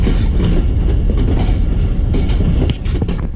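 The Tezgam express passenger train rolls along the tracks between Rawalpindi and Lahore, a loud, close, continuous rumble with rhythmic clickety-clack of wheels over rail joints.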